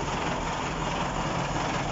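A ZIL truck's KamAZ diesel engine idling steadily low, a continuous rumbling drone close by, with no voices.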